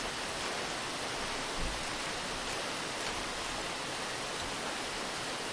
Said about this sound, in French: Là, je vois une cascade.